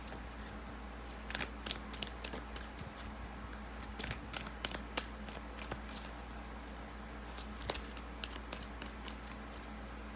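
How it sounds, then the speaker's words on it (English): Tarot cards are shuffled in quiet, irregular bursts of soft, crisp flicks and riffles, close and faint over a low steady background hum. "Let me shuffle these cards and see what comes"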